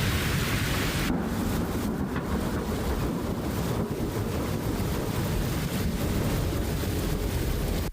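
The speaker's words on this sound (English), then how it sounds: "Rain dumping down at a fast rate with huge cracks of thunder" Heavy rain pours down in a dense, continuous roar with wind-like rushing throughout. No distinct thunder cracks stand out.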